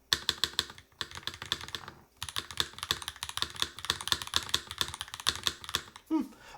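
Fingers type quickly on a Dune65 mechanical keyboard, producing a close, crisp run of clacky keystrokes with one brief pause and a final thud near the end, sounding fairly loud and bright.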